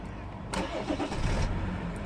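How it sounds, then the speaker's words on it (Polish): A BMW E60 engine cranks with a steady churning starter rhythm but fails to catch, close and fairly loud, after a sharp onset. "to kręci, kręci i odpalić nie może"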